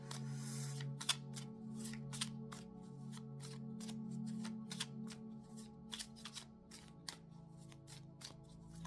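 Oracle cards shuffled by hand, a rapid series of crisp riffling bursts at fairly regular intervals, close but quiet, over a low steady background hum with no talking.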